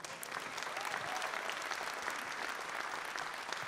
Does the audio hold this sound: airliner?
no